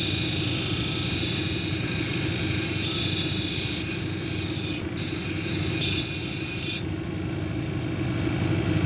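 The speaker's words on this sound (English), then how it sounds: "basically all you're doing is taking the grinding marks from the 80 grit out of here" Steady, continuous hissing whir of a 220 grit lapidary wheel grinding a sodalite cabochon, with the pitch and texture shifting slightly as the stone is pressed and moved.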